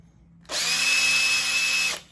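A handheld power drill spins freely at its second speed setting, a steady high-pitched whine that starts abruptly, holds constant for about a second and a half, then cuts off, close and loud with no talking.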